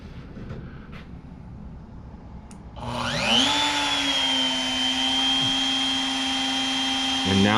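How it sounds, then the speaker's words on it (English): A CNC router spindle starts up with a rising whine that climbs quickly, then holds a steady high-pitched tone over a motor drone, loud and close. "So let me go ahead and start the router."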